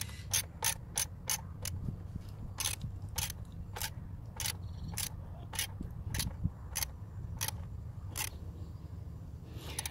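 A hand ratchet wrench tightens a PCV valve on a 2014 Kia Cadenza, giving a steady series of sharp, close clicks in quick succession over faint background noise.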